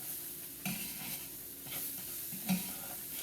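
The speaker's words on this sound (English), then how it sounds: "Let that cook in there until fragrant" Vegetables with spices, salt and pepper sizzle quietly in a pan as a utensil stirs them now and then, giving a few soft scrapes over a steady, faint frying hiss.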